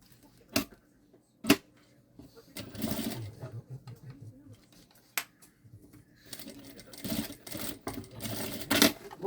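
A sewing machine topstitches a seam on a synthetic backpack in short bursts broken by sharp clicks and taps, close by, with a person talking in between.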